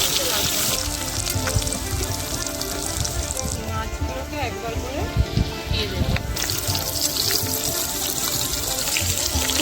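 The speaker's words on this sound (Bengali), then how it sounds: "আর এক পিঠ ভাজা হয়ে গিয়েছে" Sea crab frying in a pan, a soft steady sizzle and bubbling close by with faint spatters, while people talk over it.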